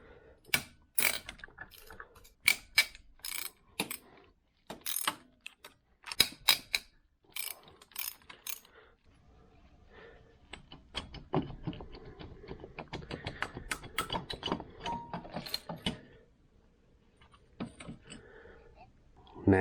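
A ratchet wrench works loose the cylinder head bolts on a 2007 Honda TRX400EX, giving quick bursts of clicking ratchet strokes with pauses and clinks of metal between them, close and fairly quiet.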